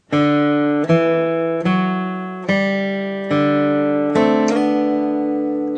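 Electric guitar plays slow double stops, pairs of notes sliding into the next pitch, from a song's solo, with about six ringing, sustained attacks and no voices.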